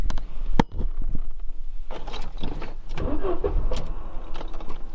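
A Mercedes W124 230E engine cranks with a few sharp clicks and stutters, then catches and runs, settling into a low rumbling idle nearby.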